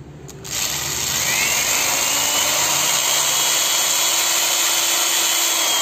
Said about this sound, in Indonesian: saya mau gunakan mata bor 10 mili agar presisi di tengah